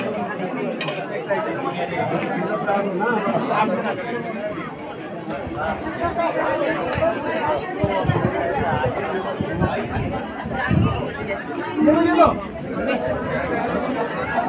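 Dense crowd chatter at a village puja bhandara, many overlapping voices near and far forming a continuous murmur with occasional louder calls.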